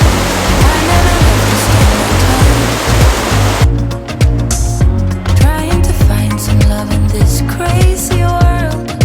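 The Firehole River in Yellowstone National Park rushes loudly and continuously on a chilly morning. Its broad hiss of flowing water runs under a steady low rhythmic thumping.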